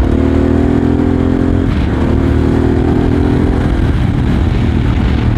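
Harley-Davidson Pan America adventure motorcycle engine held at 4000 rpm in fourth gear, a loud, steady droning roar that continues without a break throughout, recorded close while riding.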